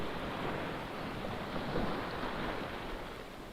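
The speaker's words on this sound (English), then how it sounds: "It's only waves." Steady broadband wash of waves rolling in over a sandbank off the Belgian coast, with wind across the water, continuous and moderately loud throughout.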